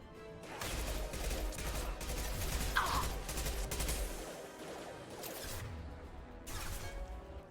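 Gunfire from the Mass Effect 2 video game comes in bursts of rapid shots with a crashing impact, fairly faint, fading and then returning in a short final volley.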